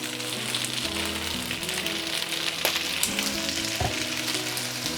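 Flat rice noodles sizzling in a hot wok with dark soy sauce, a steady close crackle and hiss with occasional stirring scrapes, no talking.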